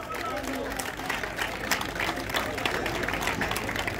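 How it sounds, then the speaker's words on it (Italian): Crowd applause at an outdoor evening dance event in Ortelle, Italy, busy clapping mixed with crowd noise and voices, fairly loud and continuous with low rumble underneath. "Facciamolo forte l'applauso"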